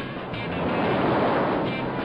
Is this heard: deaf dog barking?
no